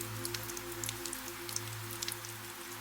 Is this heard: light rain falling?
yes